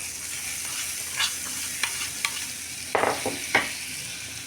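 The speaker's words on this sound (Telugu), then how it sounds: "ఇప్పుడు ఈ తాలింపు మొత్తాన్ని పచ్చళ్ళ వేసేసుకోండి" Hot tempering with curry leaves hits lemon pickle, a bright continuous sizzle with a handful of crackling bursts toward the end, close and fairly loud with no voices.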